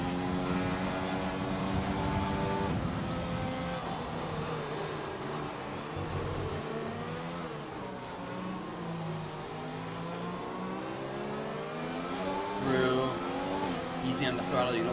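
An on-board GP2 race car engine rises and falls in revving sweeps through the chicanes at the Canadian Grand Prix, continuous and close, with a commentator talking over it throughout.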